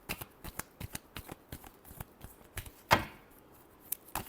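Playing cards being shuffled, a rapid run of crisp riffling flicks close by with one louder snap partway through.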